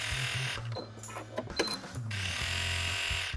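A sewing machine stitches a quarter-inch seam on a quilt. Its close mechanical whirring runs in short bursts, pauses with some clicks and handling, then resumes steadily, and no one talks.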